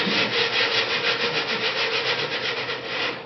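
Wood being sanded by hand with sandpaper, a steady rhythmic rubbing of quick back-and-forth strokes, close and continuous throughout, with no talking.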